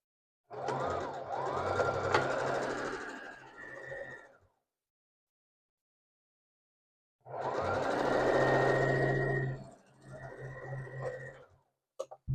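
A sewing machine stitches a scrap quilt block in two runs of steady, close mechanical whirring, each lasting a few seconds, with a silent pause between them and a shorter burst at the end.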